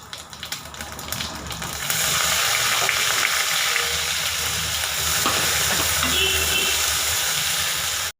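Cumin, onion and green chili are dropped into hot oil for a dal and ridge gourd dish. After a few quiet seconds a loud, close, continuous sizzle bursts up and keeps crackling steadily to the end.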